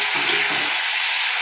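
Potatoes fry and sizzle in a spiced onion-tomato masala, a loud, close, continuous hiss with a brief low stirring rustle near the start.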